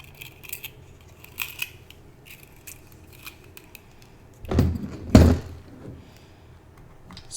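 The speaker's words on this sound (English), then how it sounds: "I'm going to cut off some Softflex craft wire." Wire cutters snip 22 gauge Softflex craft wire with a couple of sharp, close clicks midway, preceded by faint metallic rustling and light handling taps.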